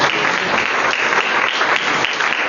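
A church congregation at a French-language worship service bursts into sustained, loud applause, dense clapping filling the space evenly for the whole stretch.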